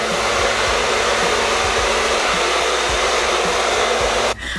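A bonnet hair dryer cap inflating for deep conditioning of curly hair, giving a loud, steady blowing whoosh that holds evenly throughout, then dips briefly at the very end.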